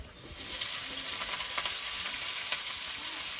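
Chopped onions and green chilies hit hot oil after garlic in a pan, frying with a continuous crackling sizzle broken by a few sharp stirring scrapes, close up with no talk.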